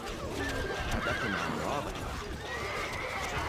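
Horses neigh and whinny amid clip-clopping hooves in the medieval strategy video game Stronghold: Crusader, loud and close, while a voice speaks over them.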